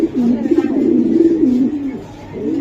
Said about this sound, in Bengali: বিদেশি কবুতর ভাই।